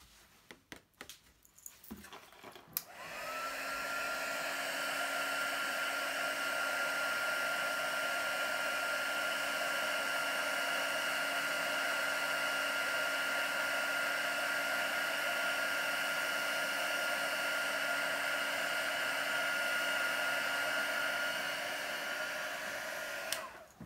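A heat embossing tool melts embossing powder for 3-D lettering on a papercraft project. After a few handling clicks it switches on to a steady, close whirring blow that holds evenly for about twenty seconds.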